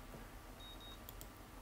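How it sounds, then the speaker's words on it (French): Alarm clock in the visual novel game Katawa Shoujo, a brief, faint pair of high electronic beeps over a steady low hum. "Le son de mon alarme interrompt le."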